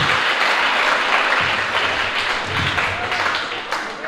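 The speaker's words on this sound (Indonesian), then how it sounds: "Sekali lagi tepuk tangan untuk penampilan baru." Audience applause rings out after a regional dance performance at a school Language Month celebration, a steady wash of many hands clapping close and loud for about four seconds with no voices on top.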